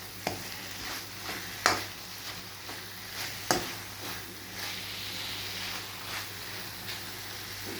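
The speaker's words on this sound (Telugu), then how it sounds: "ఇప్పుడు ఈ నెయ్యి అంతా ఇట్లా కలపాలండి" A spoon scrapes and stirs carrot halwa with ghee in a pan, irregular knocks and sweeps sounding over a soft, steady sizzle at close range.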